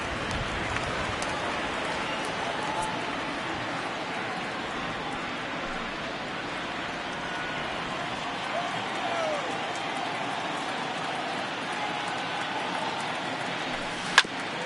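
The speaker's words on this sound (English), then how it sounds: "starting to pour now, and the forecast is not showing any signs of a break in the weather" Heavy rain pours steadily over a baseball field in a Yankees vs Red Sox video game, a constant wash of noise running beneath a play-by-play commentator's voice.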